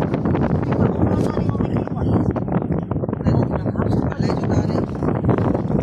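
Strong wind blows outdoors, a heavy continuous roar that buffets the microphone throughout, with gusty surges and rustling mixed in while people talk over it.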